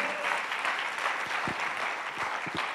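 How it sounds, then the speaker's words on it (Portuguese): A church congregation applauding during a sermon, steady massed clapping from a room full of people, fairly loud and sustained, with a few voices faintly audible through it. "então a gente pode aplaudir, não é?"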